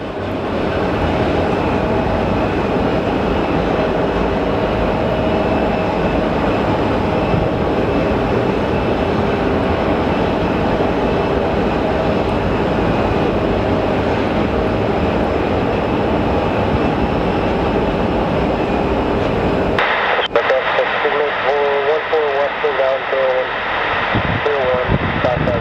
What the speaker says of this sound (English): And we have our Horizon Air finally landing.